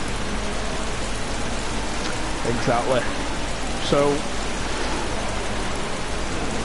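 Steady rain hisses throughout a race at Zolder in Front Row Racing, a broad, even wash of noise with a commentator's voice briefly heard over it.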